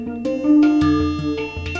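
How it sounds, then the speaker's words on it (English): Percussion hits passed through a Corpus resonator effect tuned to D, each strike ringing into a sustained pitched tail; several hits in quick succession over about two seconds, fairly loud and alone. "a corpus kind of adds a bit of a tail to it."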